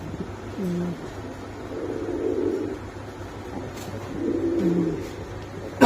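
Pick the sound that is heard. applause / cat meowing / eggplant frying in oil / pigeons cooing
pigeons cooing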